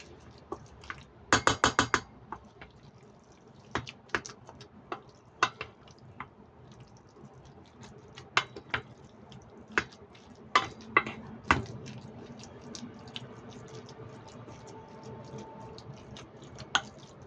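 A utensil stirring a minced pork mixture with mushrooms and dried squid in a bowl, with scattered clicks and scrapes, some louder clinks near the start, close and fairly quiet, no talking.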